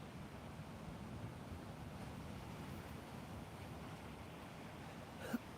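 Atlantic Ocean surf along the Grand Strand at Myrtle Beach, South Carolina: a steady, broad wash of waves with wind buffeting the microphone, continuous and fairly soft, no talking.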